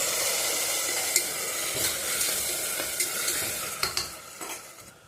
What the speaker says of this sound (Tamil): இஞ்சி பூண்டு பேஸ்ட் போட்டுக்கலாம். போட்டுட்டு நல்லா வதக்கி விட்டுக்கோங்க. வேக வச்ச கறியை போட்டுக்கலாம்.